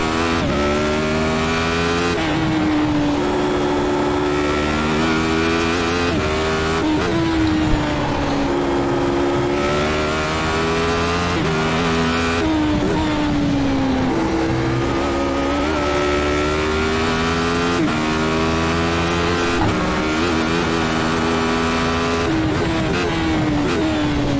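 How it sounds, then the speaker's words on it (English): A Radical SR8 race car engine screams around Oran Park in iRacing, rising through the revs, dropping on quick gear changes and repeating in a loud, continuous cycle. "Gonna get around Thomas, the back marker there"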